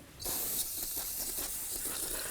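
A pressurized spray cleaner hisses onto the rear axle of a 1994-2004 Chevy S-10 pickup, starting abruptly and holding as a steady close spray with small fluctuations as the stream moves, no voices.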